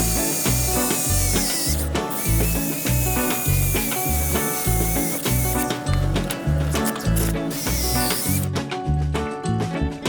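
Power tool cutting metal off a steel bracket so it can be welded to a pipe on a Ford Ranger 3.0 turbo build, a harsh rhythmic grinding rasp, loud and close, with a few short pauses.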